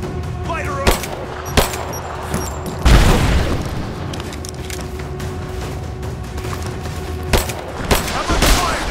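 Sharp gunshots during a firefight in Rise of the Tomb Raider, scattered single cracks plus one heavier boom, irregularly spaced and fairly close, over a continuous rumble of battle.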